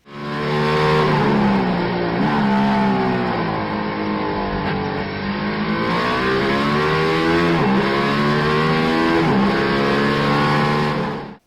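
A Mercedes-AMG One hypercar flat out on a Nürburgring lap, its engine screaming loud and close throughout, pitch climbing through each gear and dropping sharply at shifts, with no voices.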